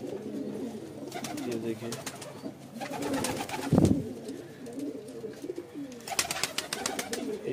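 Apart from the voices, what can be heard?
pigeons cooing in a breeding loft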